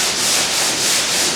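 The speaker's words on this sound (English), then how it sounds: "trying to finish up all the sanding" A Chevrolet C10 truck body is being sanded, giving a loud, continuous, close-up abrasive rasp with a gentle rhythmic swell from the back-and-forth strokes, and no voices.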